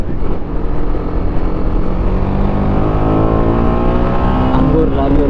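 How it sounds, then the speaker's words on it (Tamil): A lorry approaches on a highway, heard by a rider while riding, as a loud, steady engine and road roar with rising tonal engine drone, filling the whole stretch with strong wind noise. "அங்கே ஒரு லாரி வருது"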